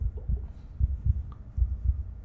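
Heartbeat sound effect from a Korean horror video game: a steady series of deep, muffled low thumps in paired beats, moderately loud and alone with no talk.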